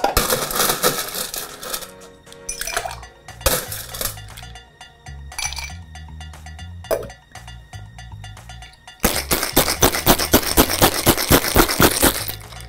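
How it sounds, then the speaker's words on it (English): Ice rattles hard inside a cocktail shaker for a raspberry Long Island iced tea, loud and close, with bursts of rapid rhythmic clatter between quieter clinks. "now we're just gonna add in the ice and give it a good shake"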